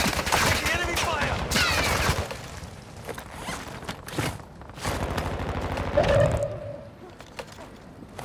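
Bursts of enemy gunfire in Call of Duty Warzone 2, loud rapid volleys crowding the opening seconds, then sparser shots and clatter that fade toward the end.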